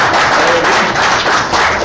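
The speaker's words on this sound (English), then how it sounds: "Everybody give a round of applause for Barry Mathis." Applause for a guest speaker at a team meeting, a loud, close burst of clapping from a group, dense and continuous for under two seconds.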